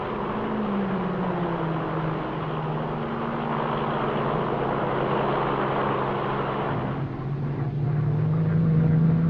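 Racing cars at the 1957 Sebring 12 Hours, a Renault among them, drone past steadily with a low engine rumble, a distinct engine note rising toward the end, and no voices.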